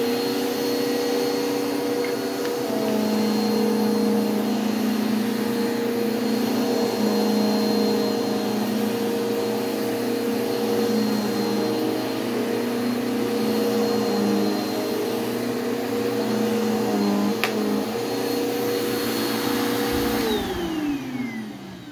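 A 2013 Bissell Cleanview Rewind Pet upright vacuum cleaner runs continuously with a steady motor whine and airy hum, close by and unbroken, easing off briefly near the end.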